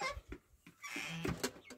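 Chicks pecking under rabbit cages on a farm give a few faint, brief clucking chirps in a short, quiet moment.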